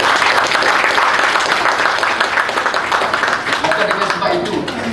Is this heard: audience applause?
yes